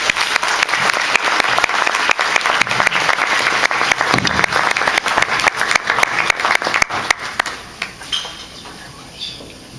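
Sustained audience applause at a 2011 scholarship awards ceremony greets a speaker coming to the podium, a dense, steady clatter of many hands that thins out and fades over the last couple of seconds.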